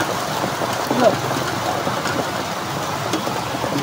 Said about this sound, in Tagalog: Yan, lalakas pa. Lalaka ng patak. Ang lalaka ng patak.